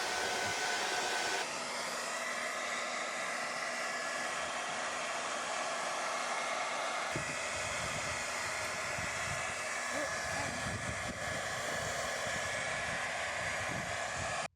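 A heat gun blows hot air onto a panel of a Bongo camper van, giving a loud, steady whooshing roar that runs unbroken for the whole stretch, close to the microphone.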